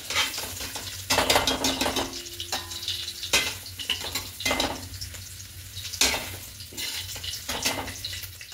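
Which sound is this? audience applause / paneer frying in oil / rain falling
paneer frying in oil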